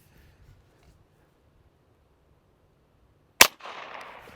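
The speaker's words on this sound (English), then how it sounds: "let's shoot a cantaloupe with a Stanger." A single sharp rimfire gunshot from a CCI Stinger round fired into a cantaloupe cracks once after near silence, followed by a brief splattering hiss as the fruit bursts.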